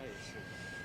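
Airplane engine spinning up before flight at a Chinese PLA anniversary event, a steady broadband roar with a thin high whine, heard close under a talking voice for under a second.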